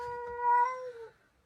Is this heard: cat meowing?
yes